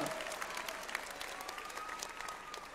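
A crowd at a Japan Expo cosplay show claps, a dense, fairly distant patter of applause that holds steady throughout, with a faint voice sounding briefly within it.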